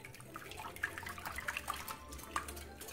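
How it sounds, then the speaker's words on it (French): A hand whisk beating four eggs in a bowl, giving a continuous wet, sloshing churn with small clicks against the bowl, close and moderately quiet, with no talk. "Donc je mélange bien les œufs à l'aide d'un fouet."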